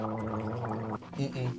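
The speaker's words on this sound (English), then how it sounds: "Make sure you gargle." Close, wet gargling by someone after eating extremely spicy food, a throaty bubbling rattle that runs steadily for about a second before breaking into brief voiced sputters.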